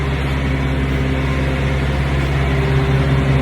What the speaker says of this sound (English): Reefer units, refrigerated trailers.